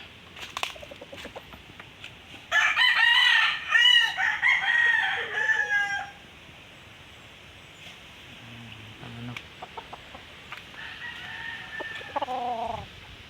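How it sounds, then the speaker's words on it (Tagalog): A rooster crows loudly nearby with a long, wavering call, while other chickens cluck softly in the background, ending with a shorter crow. "Ayan mga manok ko."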